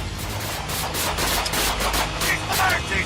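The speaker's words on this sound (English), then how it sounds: "A brief struggle followed, and gunfire erupted within seconds." Police gunfire erupting during a struggle at a traffic stop, a dense rapid fusillade of overlapping shots cracking repeatedly for about three seconds, loud and close with no clear pause.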